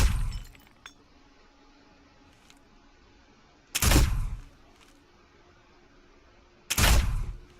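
Gunshots fired at a bottle target in Garry's Mod: two loud, sharp bursts about three seconds apart, each with a short ringing tail, over a quiet background.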